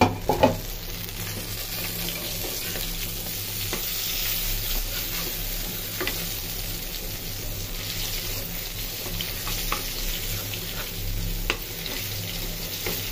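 Slices of eggplant fry in oil in a pan, a steady, moderate sizzle with occasional sharp crackles and stirring clatter, no voices.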